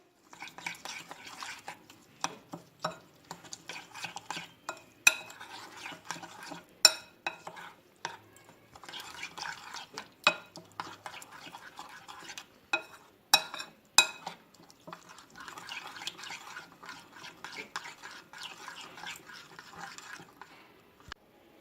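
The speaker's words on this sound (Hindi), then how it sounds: "अब इसको अच्छी तरह से मिक्स कर लेंगे मसाले को।" A spoon stirs and mixes a wet spice paste of red chilli, turmeric, garam masala, cumin, garlic, ginger and salt in a bowl for fish fry, making soft squelching bursts and sharp clinks against the bowl, close and with no talking.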